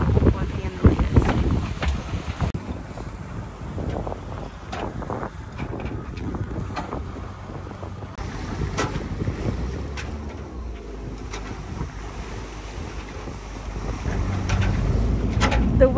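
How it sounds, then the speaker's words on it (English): A Tesla-powered sailboat under sail toward Scorpio Bay off Baja Mexico at about 6.5 knots: steady wind rush and water washing past the hull, with occasional knocks and creaks aboard and a voice talking in the mix. "We are sailing to Scorpio Bay."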